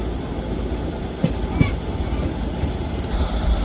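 Train 14735 from Sri Ganganagar pulls into Dablan railway station fifteen minutes late, giving a continuous rail rumble with a few distinct clacks and a swell of noise near the end, faint talking mixed in.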